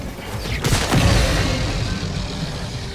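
Thermite grenades in Helldivers 2 burn and explode in a loud, sustained crackling roar with a heavy thump near the start, fizzing on steadily with no talk.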